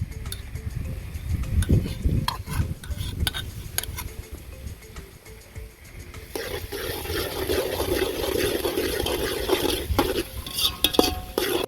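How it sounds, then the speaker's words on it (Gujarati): Ginger, garlic and chili paste going into a pot of cooking Kathiyawadi khichdi, with spoon clinks and stirring, then a louder steady sizzle and bubbling close by. "તો પછી નાખી દઈશું આદુ, લસણ અને મરચાંનો પેસ્ટ."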